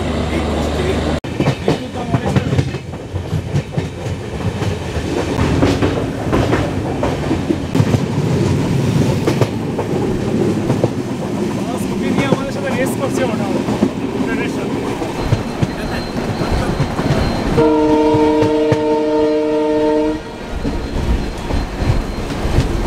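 A Vistadome glass-coach train runs through Bagrakot station in the Dooars, with loud rumbling wheels, clickety-clack and rattling, and a brief horn-like tonal blast near the end, with some voices faintly underneath.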